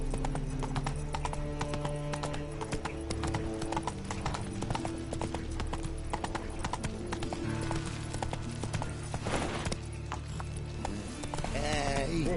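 The horse Roach gallops in The Witcher 3, a rapid, continuous clip-clop of hooves over a music-like background, with a brief whinny near the end and a voice speaking.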